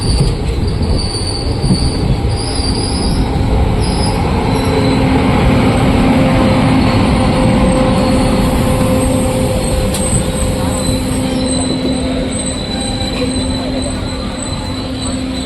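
A loud, crowded Bhavnagar–Porbandar passenger train rolls past at close range at Kukavav railway station, a dense rumble of wheels on rails with a high metallic squeal running throughout; no one speaks.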